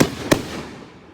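Fireworks go off in two sharp explosive bursts, the second louder, each followed by a fading crackling tail outdoors, with no talking.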